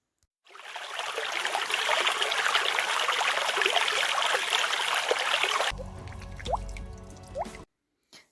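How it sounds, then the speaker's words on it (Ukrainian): A brook babbles and gurgles steadily for several seconds, with bright bubbling splashes, then cuts off to a low rumble and a couple of drips. "На журчання струмочка."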